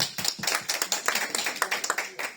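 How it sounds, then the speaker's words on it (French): A church congregation at a Sunday service clapping together, a brisk rhythmic burst of many hands close by, loud and steady for a couple of seconds with faint voices underneath. "on l'applaudit"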